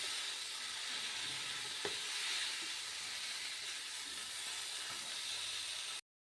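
Spice masala for a paneer and cauliflower curry sautés in a pan, a soft continuous sizzle with an occasional faint stir tap, fairly quiet throughout, then cutting to silence.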